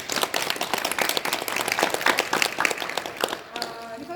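Lively audience applause at an opera-viewers' meeting with a director, brisk close hand claps in a dense rhythmic patter, with a few voices mixed in as it fades near the end.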